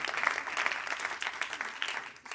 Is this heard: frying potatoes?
no